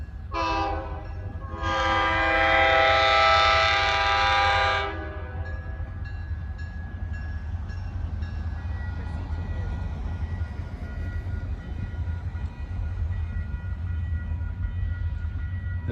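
A heritage locomotive passes near a railroad crossing in Greensburg, Indiana, with a brief horn note followed by a long, loud horn blast, then fading into rumbling wheels and steady outdoor noise.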